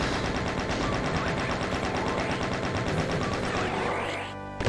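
Rapid, loud shotgun blasts from the Doom mod Hell To Pay fire in a dense, continuous barrage that nearly fills the clip, then thin out at the end.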